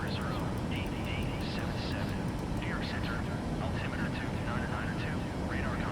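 A steady airplane engine drone in Microsoft Flight Simulator 2024, a continuous broadband roar throughout with a voice talking over it.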